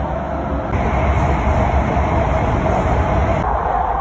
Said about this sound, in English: Hey guys, I'm on a train.